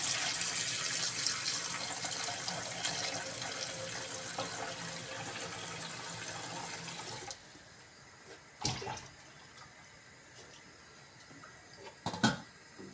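Water gushes from a tap into a pot for a Romanian ciorbă, a loud, steady rushing pour that stops abruptly, followed by two brief clunks and splashes in near quiet.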